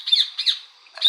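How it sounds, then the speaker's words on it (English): Bird squawking in the video game Republique: three harsh, raspy squawks, the first two close together and a third after a short pause, loud and close with no talk. "What the hell's up with that bird?"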